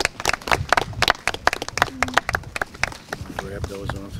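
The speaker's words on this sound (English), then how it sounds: "And one last round of applause for our Cub Scouts tonight." Cub Scouts and families give a final round of applause at a Flag Day ceremony, sharp clapping bursts mixed with children's voices and chatter nearby.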